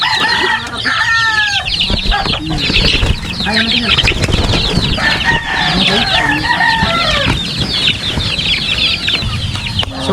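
Chickens cluck and a rooster crows loudly nearby in a backyard coop, overlapping calls with a burst of wing flapping and a voice briefly speaking in between.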